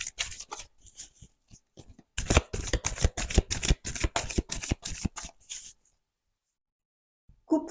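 Oracle cards being shuffled and cut, a dense run of crisp riffling flicks and slaps close to the microphone, then a short silence followed by one last soft card sound.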